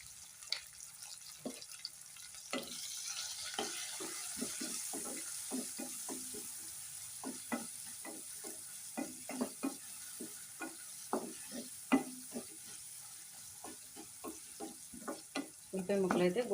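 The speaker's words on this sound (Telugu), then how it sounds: "ఉల్లిపాయ ముక్కలు అయితే గోల్డెన్ బ్రౌన్ కలర్ వచ్చే వరకు వేసుకోవాలి" Onion pieces frying in a pan for an eggplant and tomato curry, a soft steady sizzle broken by frequent scraping stirs and clicks of a utensil, close and fairly quiet.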